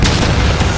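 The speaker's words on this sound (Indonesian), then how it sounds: "Meriam-meriam dari perbatasan timur laut mulai menghantam wilayah Galilea." Heavy artillery cannon fire from the northeast border pounds the Galilee region in a continuous loud booming rumble that fills the whole moment.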